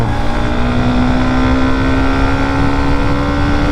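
A Hero Xtreme 125R motorcycle pulls hard in third gear, a steady, loud buzzing engine note with wind rush, heard from the rider's position without talking.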